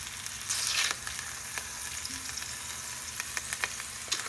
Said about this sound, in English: We are going to flip these meatballs over. Should have a nice brown layer on the bottom.